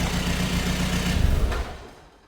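A Mk2 TDI diesel car engine idles with a steady low rumble, fairly close and even, before the sound drops away and fades out near the end.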